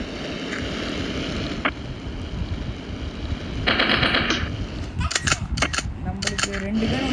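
Gunfire in the video game Mini Militia, short bursts of shots rattling over a constant whooshing game background, with a voice talking over the action.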